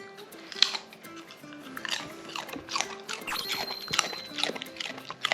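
A Shiba Inu dog crunching and chewing raw carrot pieces up close, with steady irregular bites and crunches throughout, fairly quiet with no talking.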